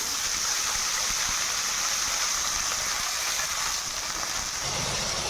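Washed potatoes and bottle gourd hit hot oil with fried onions and sizzle loudly and steadily, a dense continuous hiss close up that barely changes across the whole stretch.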